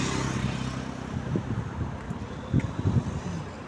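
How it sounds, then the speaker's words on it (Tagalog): Strong, cold wind blows outdoors on a full-moon evening, a steady low rumbling roar buffeting the microphone with gusty swells and a few heavier bursts near the end. "Lakas ang hangin."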